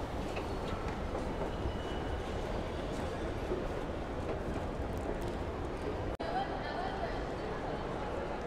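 A train at a railway station in France gives a steady, loud rumble that fills the whole stretch, with one sharp click partway through and no clear voices over it.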